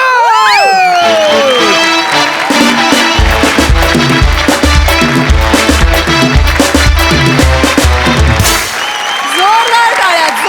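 A live comedy-show audience on Maharashtrachi HasyaJatra applauds and cheers after a performance, a loud wash of clapping and shouts mixed with booming music that fades near the end.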